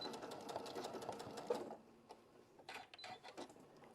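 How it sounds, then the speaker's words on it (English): Sewing machine stitching a fabric Easter egg, a rapid quiet mechanical whir of the needle running for under two seconds, then stopping, followed by a few faint clicks and fabric handling. "Now I'm going to sew the second one just like I did that one."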